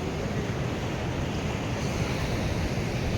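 Sea surf washes continuously onto the shore at Harshad beach, a dense, loud roar of waves mixed with wind buffeting the microphone.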